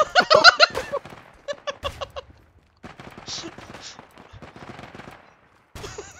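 Gunfire in the Isonzo video game, a First World War shooter on the Cengio map: a fast burst of close shots up front, then scattered single cracks and distant fire, with excited voices talking over the battle.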